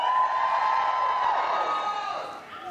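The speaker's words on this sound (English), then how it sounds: "There was a pretty big cheer." A large crowd at a comedy festival gala in New Zealand cheers and whoops loudly, a sustained roar of voices that holds steady, then tapers off slightly near the end.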